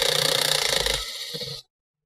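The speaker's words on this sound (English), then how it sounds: "Unscrew the hinges. 2 screws on that side and 2 screws on this side." Hand screwdriver turning out hinge screws on a Toshiba L645D laptop, a steady fine ratcheting tick and scrape for about a second and a half, close up, then stopping into silence.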